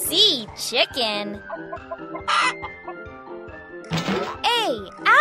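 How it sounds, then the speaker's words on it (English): Chicken clucking and crowing from the Puzzingo kids' puzzle game, several loud bursts of cartoonish fowl calls mixed with bright chimes and musical tones. "C. Chicken."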